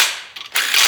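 A torque wrench tightens the main bearing bolts on a Chevy 327 engine block, giving short mechanical ratcheting clicks followed by a sharp, louder click burst, close up and with no voices.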